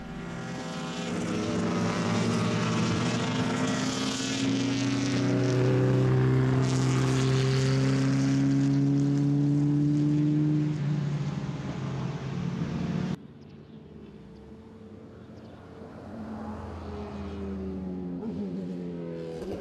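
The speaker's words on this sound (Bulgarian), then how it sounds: "състезателите направиха няколко обиколки зад автомобила по сигурността" Racing cars lap behind a safety car at Serres Circuit, engines droning loudly with rising and falling pitch as they pass, then the sound cuts abruptly to a quieter, distant engine hum.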